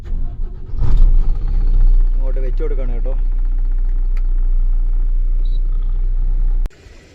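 A tipper lorry engine rumbles steadily at a plant before leaving loaded with GSP, a deep continuous drone that cuts off near the end, with a person speaking briefly over it.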